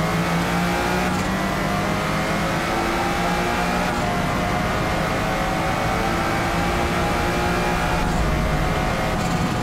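Lotus Esprit in Forza Motorsport at Spa: a continuous, loud engine drone climbing and holding under acceleration, with faint gear-change breaks and no voices.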